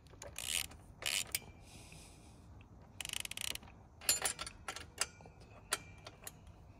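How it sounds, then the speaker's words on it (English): Ratchet tightening the lower and center exhaust bolts on a 2022 Yamaha XSR900 with a Kelpi exhaust system, heard as quick close clicking bursts separated by short pauses, no talking. "Now we have to tighten the lower bolt and center bolt holding the midsection of the pipe."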